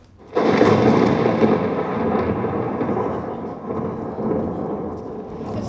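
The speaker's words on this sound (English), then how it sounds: "The storm is growing near." A thunderclap breaks out suddenly after a brief hush, then rolls on as a long loud rumble that slowly fades amid steady rain, no voices.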